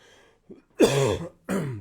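A close, short cough followed by a throat clearing, two abrupt bursts from one person after a brief faint breath.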